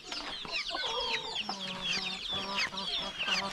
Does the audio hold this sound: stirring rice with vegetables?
no